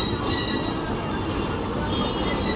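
A shuttle train running from Daulatdia to Rajbari crosses a level crossing in town, giving a loud, steady rumble of wheels and carriages with high metallic squeal and ringing throughout, with no voices.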